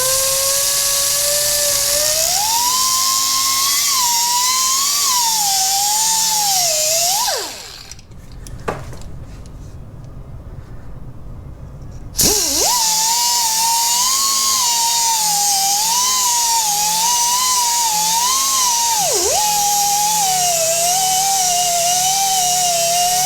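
A power tool cuts through PTFE fuel hose clamped in a vise, its loud high whine wavering under load, pausing briefly for a few seconds of quieter handling, then resuming for a long steady cut with another dip in pitch.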